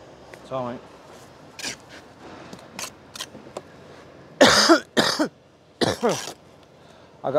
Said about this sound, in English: I got a cough as if I smoke